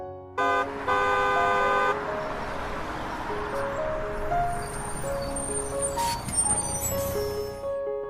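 A school bus horn sounds in loud, sustained tooting blasts at the start, followed by shorter, fainter tonal honks over a steady background.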